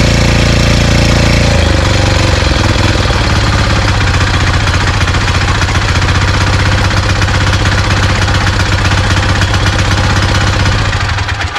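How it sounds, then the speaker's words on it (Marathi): Diesel engine of a power weeder or tiller in a farm machinery showroom starts and settles into a loud, steady running drone with a rapid rhythmic knock, close by and unbroken by talk. "बघा ही डिझेलमध्ये मशीन आहे."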